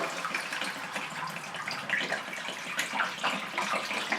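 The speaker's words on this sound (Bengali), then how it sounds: "1 মিনিট ফ্রাই করার পর আমি এর মধ্যে দিয়ে দিচ্ছি 1 লিটার পরিমাণ জল।" About a litre of water pours into a pan of chicken being made into stock for soup, a continuous close gushing splash that holds steady for several seconds with no voices.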